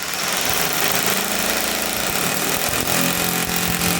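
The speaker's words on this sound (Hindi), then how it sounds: "अब हम ड्रिल करेंगे" A power drill bores into a wall to mount a modular switch board box, a loud, steady grinding whir that runs without pause for the full stretch.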